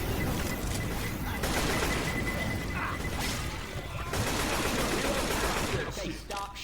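Sustained video game gunfire, dense overlapping shots and crashes in a loud continuous firefight lasting several seconds, with faint voices mixed in underneath.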